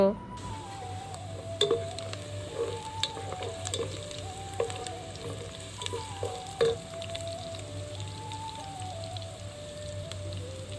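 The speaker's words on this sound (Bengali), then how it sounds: "পেঁয়াজ এবং কাঁচামরিচের সাথে রসুনটাকে আমি হালকা একটু ভেজে নিব" Onion, green chili and whole garlic cloves frying lightly in a pan: a quiet, steady sizzle with scraping stirs and small clinks, while a voice talks over it.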